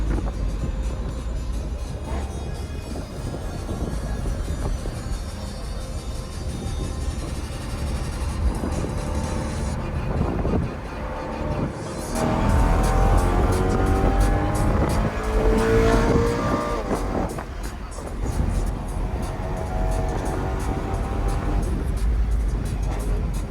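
BMW E92 M3 driven hard on European roads, its engine loud and continuous throughout, rising in pitch through gears with sweeping tones, no clear tire squeal, no talk over it.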